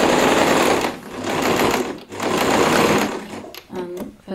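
A sewing machine runs in steady whirring bursts while back stitching a jeans bag pocket, pausing briefly between runs, loud and close with no talk.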